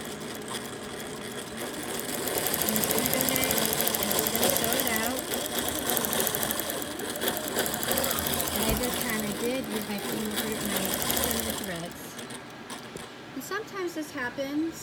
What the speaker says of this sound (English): Now I'm going to go back up here and I'm going to hit sew.